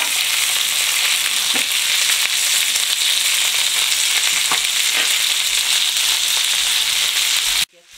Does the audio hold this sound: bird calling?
no